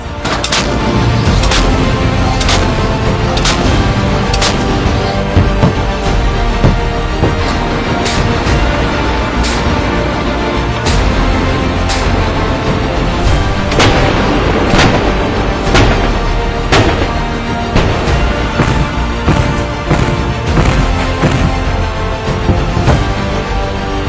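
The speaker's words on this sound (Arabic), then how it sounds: "ونفذت الوحدات البحرية ضربات مركزة من خلال تنفيذ رمايات مدفعية سطحي بالذخيرة الحية وبمختلف الأعيرة على الأهداف السطحية المعادية." Naval units fire live surface artillery rounds of various calibers at sea targets, with repeated sharp booming reports at irregular intervals over a continuous loud rumbling background.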